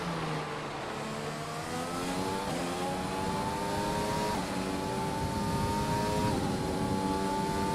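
A Formula 1 race car engine in the F1 2020 video game, a loud continuous high whine that climbs through the gears with quick upshifts, heard alone and close.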